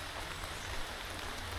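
Rain falling on the Appalachian Trail on a cold, dreary day, a dense and even hiss of drops, close and constant, with no pauses.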